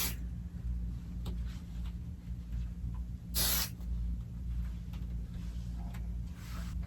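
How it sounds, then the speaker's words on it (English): A short burst of aerosol adhesive spray hisses once against a steady low hum and faint background noise, spraying onto a quilt during wall basting. "so I'm gonna do a little bit more spray."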